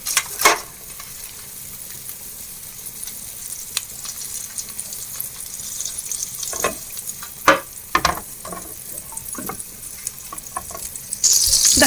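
Margarine melting in a chicken-greased frying pan sizzles steadily, with a few sharp utensil knocks and scrapes against the pan and no voices.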